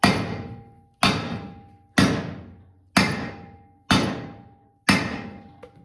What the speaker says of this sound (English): I'm going to slowly tap it in to get it started